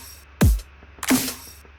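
A kick and snare drum loop in its B version plays a deep punchy kick followed by a bright crisp snare hit about half a second later, two clean, loud strikes with silence between.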